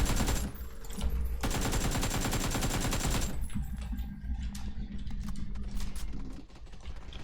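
Rifle gunfire in the video game PUBG, rapid automatic bursts that run loud and dense for about three seconds, then continue as sparser, more scattered shots and clatter with no talk.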